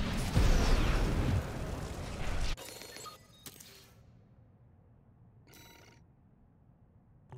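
Explosion in the mech combat game Armored Core VI, a loud roaring blast lasting about two and a half seconds, then cut off and followed by brief electronic tones and a few sharp clicks over near-silence.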